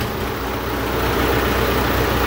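A 640 tractor engine runs nearby, a steady rough rumble with a low throbbing drone and broad mechanical noise, holding even throughout with no talk.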